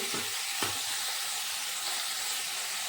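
Fresh rohu fish fries in oil with salt and turmeric, a continuous soft sizzle and hiss with a couple of brief stirring knocks near the start, fairly quiet and alone.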